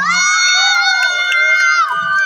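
At a gay beauty pageant, a crowd lets out a sustained, shrill, high-pitched cheer that rings loud and steady for about two seconds before tapering off.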